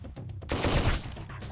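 A burst of pistol fire from the survival game Sunkenland: a loud, close volley of sharp shots cracking out in quick succession after a brief quiet lead-in.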